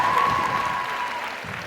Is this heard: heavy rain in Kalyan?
no